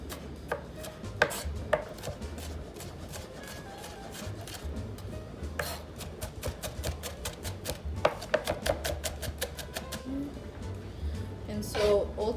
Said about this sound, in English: And then you can just give it a rough chop for a smaller piece.